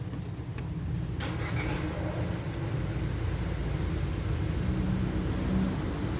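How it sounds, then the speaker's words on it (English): A 2022 Proton X70 3-cylinder engine cranks briefly, then catches into a low, rough idle that settles into a steady hum close by. "let's hear the engine start sound"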